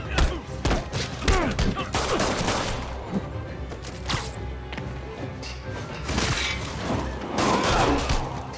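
Rapid bursts of gunfire ring out in Marvel's Spider-Man video game, loud, dense volleys mixed with crashes and thuds, with faint voices briefly underneath.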